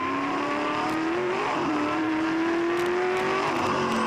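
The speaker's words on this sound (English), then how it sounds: "Listen to the cars roaring as they come around this technical part of the circuit." V8 Supercar race cars roar around a technical section of a circuit in the 2002 championship, a continuous loud engine drone with rising and dipping throttle pitch as the cars pass.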